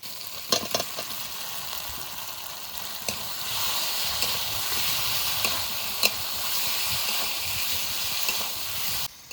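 Pre-fried potatoes added to sizzling masala in a pan and stirred, a continuous hissing fry with occasional sharp clinks and scrapes of the spoon, close and fairly loud, no talking.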